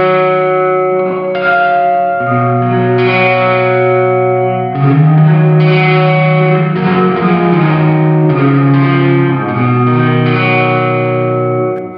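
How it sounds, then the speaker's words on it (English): Electric guitar chords through a Sonicake reverb pedal set to 75% ring out drenched in heavy reverb, long washy tails blurring each chord into the next, loud and continuous. "we're pretty much only getting reverb signal"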